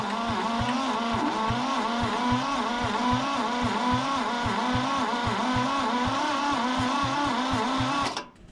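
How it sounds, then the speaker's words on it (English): A scrapyard Kubota diesel tractor engine cranks over on its starter in a fast, even, repeating chug that stays loud and close throughout, then cuts off abruptly at the end. "Just so I can verify that that engine cranks over."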